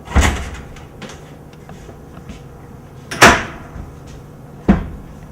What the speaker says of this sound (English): The attic space is accessed through a standard pull-down ladder.